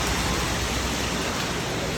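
Heavy rain pouring down in a steady, loud, unbroken roar, close by and with no other sounds standing out.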